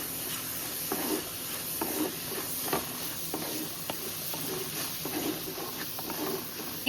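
Green chilies and curry leaves sizzle in hot oil in a pan for a chicken curry, a steady close frying hiss broken by soft stirring scrapes, with no talking.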